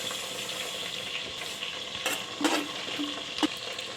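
Mustard, fenugreek, cumin and coriander seeds dry-roasting in a pan on a stove: a soft, steady crackle with a few sharp scraping stirs of a spoon against the pan, fairly quiet and close, no voices.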